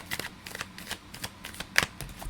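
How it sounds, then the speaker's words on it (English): Tarot cards being shuffled by hand, a quiet run of soft irregular riffling taps and slaps with one sharper snap near the end, no talking. "One more shuffle."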